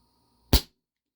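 A single sharp shot from a WE Tech Bulldog 6mm gas blowback airsoft pistol running on green gas, a loud crisp pop with a brief decay in otherwise quiet surroundings.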